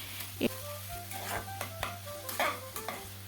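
Bottle gourd being stirred in a pan, a few scraping strokes with a soft sizzle underneath, close and fairly quiet, no talking.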